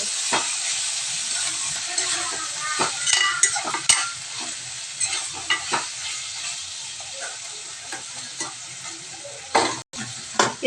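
Mutton bones with bay leaf fry in a hot pan, a steady loud sizzle broken by frequent scraping stirs and a few sharper clinks of the utensil against the pan.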